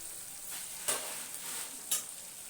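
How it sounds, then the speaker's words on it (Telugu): Chicken frying in a pot for pot biryani, a close steady sizzle with two sharper stirring scrapes about a second apart. "చికెన్ అయితే వేసేసుకుంటున్నాను."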